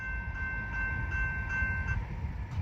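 Two railroad engines roll through a busy level crossing, a steady low rumble of wheels and motors carrying a sustained bright horn-like tone that cuts off shortly before the rumble continues alone.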